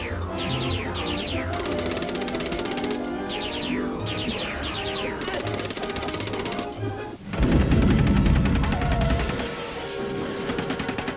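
Rapid, loud bursts of gunfire from an animated Transformers-style battle scene, with repeated clattering volleys, then a heavier blast of noise mixed with sound effects.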